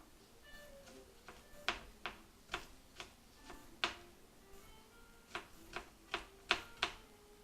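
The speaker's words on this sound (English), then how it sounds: "We want to mince them up real fine." Garlic cloves minced finely with a knife on a cutting board, a series of sharp, irregular chopping taps, some quick and clustered, close and moderately loud with no talking.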